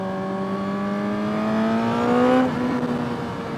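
A 2022 Suzuki GSX-R1000R sport bike engine pulls loud and close while riding, rising in pitch through acceleration before easing off abruptly, then settling into a steady hum.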